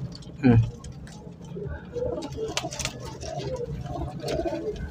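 Pigeons coo softly with low throaty calls amid a busy background of chatter and movement at a pigeon market in Lahore, one louder coo standing out near the start.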